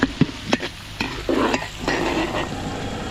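Butter, garlic and onion sautéing in cooking oil for spaghetti sauce make a loud, close sizzle broken by several sharp pops and clanks of utensils against the pan.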